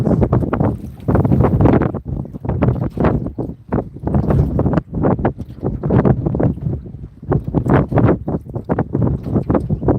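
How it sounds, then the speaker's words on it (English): Strong gusty wind blowing over open water just outside a small cove while fishing, roaring against the microphone in uneven surges and lulls throughout, no voices. "the further I get out of this cove, the windier it gets"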